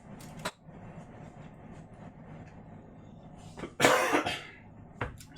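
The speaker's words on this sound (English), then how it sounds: "Excuse my cough." A cook in a home kitchen coughs, one brief cough early on followed by a louder, harsher cough and a final short one, close and prominent over a quiet room.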